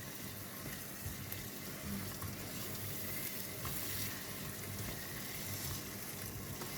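Pakistani biryani sizzles in a pot while it is stirred and tossed, a soft, dense crackling hiss running steadily throughout, quiet overall, with no voices.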